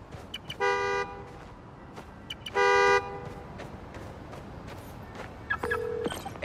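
A key fob sets off a car horn in Spider-Man: Miles Morales, giving two loud, separate honks over game street ambience.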